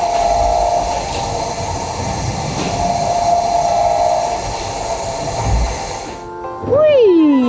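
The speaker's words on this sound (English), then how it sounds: "Listen to the whirring sound the crankshaft makes as it goes round and round." Inside the canopy of a turning carousel, the crankshaft gives off a steady mechanical whirring hum. The sound stays fairly loud and continuous, then shifts near the end as a rising and falling whine appears.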